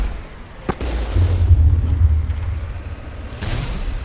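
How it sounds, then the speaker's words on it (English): Vehicle cannon fire in the video game Mass Effect: a sharp shot followed by a heavy low rumbling boom, then another burst of noise toward the end, with no talk. "And cannons, lots of cannons."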